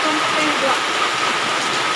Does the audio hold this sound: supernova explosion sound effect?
no